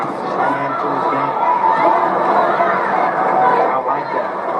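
A boxing arena crowd fills the air with a steady, dense roar of chatter and shouting, holding at an even loudness throughout without sharp cheers.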